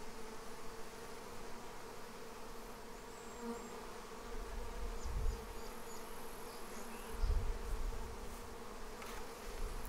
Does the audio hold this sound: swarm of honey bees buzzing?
yes